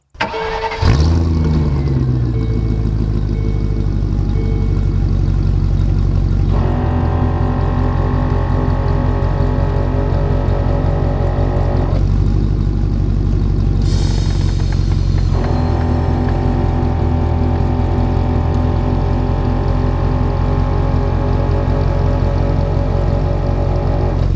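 A 1-ton-swapped Land Rover Discovery 2 engine cranks and catches, then settles into a steady, loud idle with a low rumble, shifting pitch slightly a couple of times.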